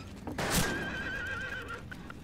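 A horse in the western shooter game Fistful of Frags gives a loud, shrill whinny after being shot, a single drawn-out neigh that wavers and trails off, with faint hoof clatter around it.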